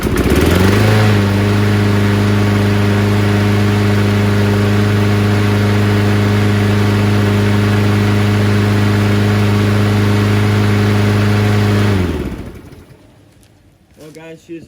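The engine of an old piece of equipment runs loud and steady with a strong, even hum and no surging, then cuts off abruptly near the end, leaving near silence.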